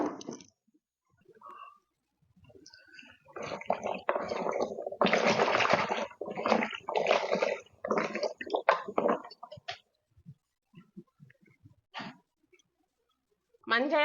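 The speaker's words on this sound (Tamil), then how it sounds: "இப்போ இந்த மஞ்சளை முதல்ல நல்லா கழுவணும்." Fresh turmeric roots being washed by hand in water with splashing, squishing and rubbing that swells in the middle and thins to scattered drips and clicks, with speech partly heard over it.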